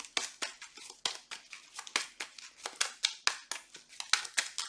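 Playing cards are shuffled in quick repeated riffles, a steady crisp flutter of card edges close to the mic during solo play of a card game, with no talking.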